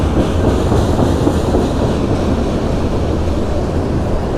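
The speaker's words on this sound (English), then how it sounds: "That train is way on down the track, buddy. That's a long one." A long Amtrak train rumbles past on the track in downtown Cleveland, a steady, loud roar of wheels and rail noise with faint clickety-clack that holds without a break for the whole stretch.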